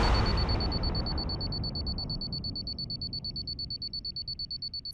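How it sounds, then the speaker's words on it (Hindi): Alarm clock ringing with a high, rapidly pulsing electronic beep that starts over a burst of noise and settles into an even, repeating rhythm, alone and fairly faint. "अलार्म क्लॉक तो यहीं रखा था।"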